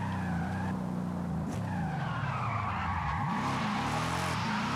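A car drifts in a circle in the Forza Horizon racing game, loud tire squeal and skidding over a revving engine that rises and falls in pitch, close and continuous.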